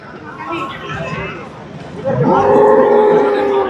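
Cows mooing at a busy Sunday livestock market in Erragadda, several loud, close, drawn-out moos rising over a background of crowd chatter and people talking.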